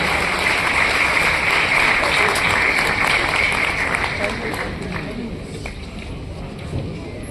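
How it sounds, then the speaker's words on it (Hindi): Loud, dense audience applause at a Rajasthan tourism department pre-summit event in Jaipur, steady for several seconds then thinning out. "माननीय श्री भजन लाल शर्मा जी का जोरदार तालियां हो जाए।"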